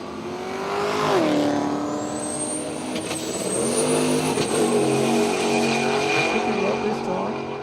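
Rob Armstrong's Holden Torana launching hard at a drag strip, engine roaring loud and close with a rising rev sweep and tyre noise, the revs climbing steadily as it pulls away.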